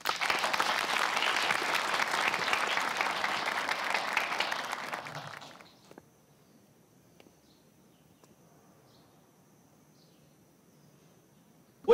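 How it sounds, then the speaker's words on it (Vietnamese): A classroom of students applauds a visiting education official, a dense burst lasting several seconds before cutting off to near silence with faint room sounds. "Mọi người vỗ tay hoan nghênh."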